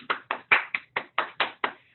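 Eight distinct hand claps at a steady, even pace, close and clean against silence, from a single person in an online meeting, each with a sharp attack and short fade.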